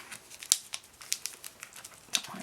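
Light crinkling and scattered sharp snips and ticks come from tape and trimming on a scrapbook flap attached to a plastic page protector, soft and close with no talking.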